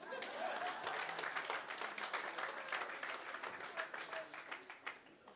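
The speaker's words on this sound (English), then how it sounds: "You can give me a round of applause" Audience applause at a university sports gala awards ceremony, a steady wash of many hands clapping from a seated crowd that fades toward the end.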